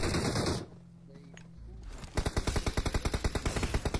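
Automatic gunfire crackles in a rapid, evenly spaced burst during a firefight in PUBG Mobile, loud and close, after a quieter stretch of game ambience.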